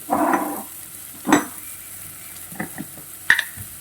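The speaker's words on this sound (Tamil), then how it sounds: "சிம்மில் வச்சுக்கிறேன். கொஞ்சம் லேசாக வதங்கட்டும்." Food being sautéed and stirred in a pan over low heat with turmeric for pongal, a soft low sizzle punctuated by a few distinct scrapes and clinks of a spoon against the pan, close and quiet.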